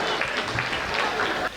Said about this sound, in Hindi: भगवान कसम क्या खतरनाक ताली बजा रहे हो आप